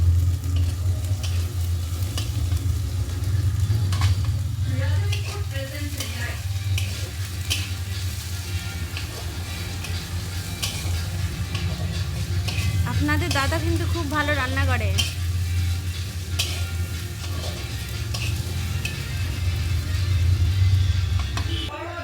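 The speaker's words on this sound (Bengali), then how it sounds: "এবার গরমে গরমে নাড়বে।" Onion and garlic frying in a hot pan as they are stirred, with a steady sizzle running throughout under a low continuous rumble and occasional scraping strokes, while someone talks over it.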